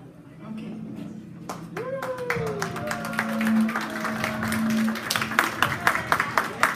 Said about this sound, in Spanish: fuerte el aplauso con todos los padrinos